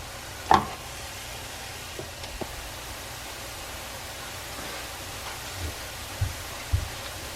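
Chopped vegetables sizzling as they cook down in a pan, a steady soft hiss throughout with a few faint knocks and scrapes of stirring.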